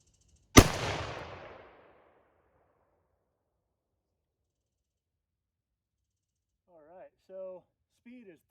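A single loud, close rifle shot from a 7mm magnum firing Remington Core-Lokt Tipped ammunition, with a sharp crack that decays over about a second into silence, followed later by someone talking briefly.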